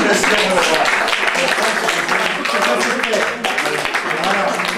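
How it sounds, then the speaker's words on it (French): An audience applauds at a café performance featuring a clown poet, loud and dense clapping that runs throughout, with voices and crowd noise mixed in. "Applaudissez-moi tout de suite."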